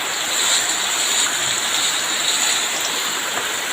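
Rain falls steadily during outdoor tube well pipe work in Keshabpur, Jessore, a dense and constant hiss with no clear breaks, fairly loud and close, with no voices.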